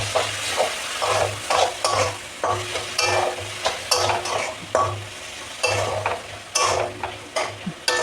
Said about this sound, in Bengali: ব্যাস, এবার আমি এটাকে ভালো করে নেড়ে নেব।